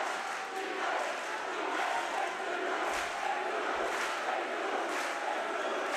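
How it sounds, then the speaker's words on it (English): A loud crowd roars steadily throughout a high school basketball game between the St Francis Lancers and the Junipero Serra Padres, a dense wash of voices and shouting with no clear breaks. "A very loud crowd here tonight."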